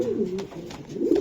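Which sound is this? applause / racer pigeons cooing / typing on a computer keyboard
racer pigeons cooing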